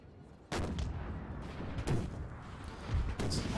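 Three heavy artillery canister blasts from Napoleon: Total War, booming loudly at spaced intervals with rumbling tails between them amid battlefield ambience.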